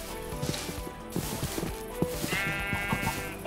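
Sheep in Minecraft bleat a few times, close and fairly loud, in short wavering calls over a background of game sounds.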